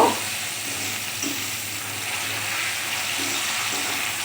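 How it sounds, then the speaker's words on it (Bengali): Potato skins drop into hot oil and fry with a continuous, even sizzle heard up close, with no talking. "তেলটা গরম হয়ে গেছে বন্ধুরা আমি আলুর খোসাটা দিয়ে দিচ্ছি"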